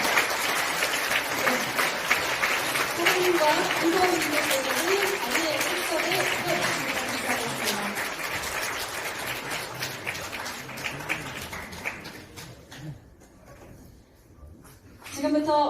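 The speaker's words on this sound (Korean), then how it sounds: "화장의 박수 부탁드립니다" An audience at a Korean corporate event, a K-water youth anti-corruption lecture, applauds steadily as the company president and executives enter, with an announcer speaking over the clapping before it fades out.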